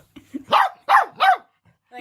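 Rupert the dog lets out three sharp, loud barks close by at an even pace, with a fourth bark just beginning at the end. Small soft noises sit in the gaps between them.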